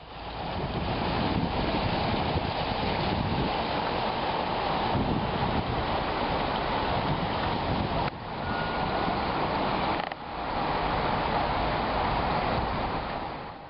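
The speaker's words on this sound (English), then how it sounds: "take in the rushing water and the sounds of the space itself" Steady, loud rushing water roars continuously, a broad dense wash of sound with brief dips, like a nearby torrent or waterfall, in a London space.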